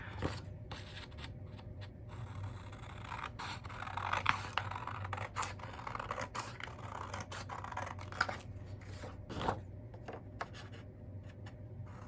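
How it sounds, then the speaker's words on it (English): Soft snipping and scraping of scissors cutting paper, irregular light cuts close by, with a low steady hum underneath. "I wish I could talk and use scissors at the same time"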